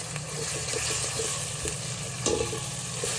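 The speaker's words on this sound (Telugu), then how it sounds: "ఇది పచ్చి వాసన పోయే వరకు వేయించుకొని వస్తాం అల్లం వెల్లుల్లిపాయ పేస్ట్" Ginger-garlic paste fries in a pan for tomato drumstick rasam, giving a continuous close sizzle with light stirring knocks throughout.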